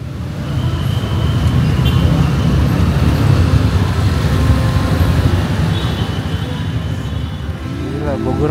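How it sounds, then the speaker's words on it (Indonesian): Jammed traffic in Bogor heard from inside an angkot minibus: a loud, constant rumble of engines and road noise with occasional horn-like tones, steady throughout and close by. "Gila, Bogor macet banget."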